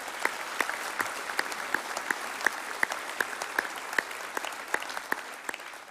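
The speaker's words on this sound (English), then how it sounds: "I think he deserves a great round of applause from everyone" An audience gives a steady round of applause at a civic reception for the Meath minors, with fairly soft, even clapping and a few sharper claps standing out across the whole span.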